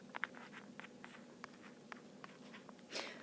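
Pen strokes scratching out the letters PEMDAS as an order-of-operations reminder for an adult-education algebra lesson: a quiet run of short, irregular scratches with a slightly louder rustle near the end, and no talking.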